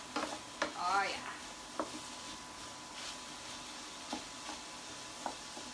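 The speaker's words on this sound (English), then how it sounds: "Let me give this a stir." Taco filling stirred in a sizzling pan, with a few scraping strokes and soft clatter over a steady low frying hiss, and a person talking briefly near the start.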